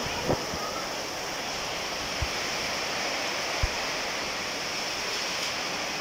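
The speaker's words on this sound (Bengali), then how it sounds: "প্রচণ্ড ঝড়ো হওয়া বইতেছে প্লাস বৃষ্টি দুটাই একসাথে পড়তেছে" Strong stormy wind and heavy rain blow through swaying trees outdoors, a loud unbroken roar of rushing air and water with a few faint knocks.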